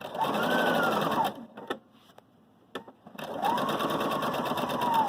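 A Viking Designer Brilliance 80 sewing machine stitches in two steady runs with a brief pause between them, punctuated by a few clicks as the needle stops and the fabric is pivoted.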